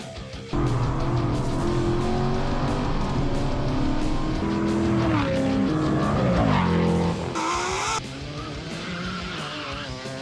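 A 1993 Holden VP Commodore base Executive, a Brock replica race car project, runs its engine loudly and steadily, with revs that rise and fall and a brief higher surge near the end.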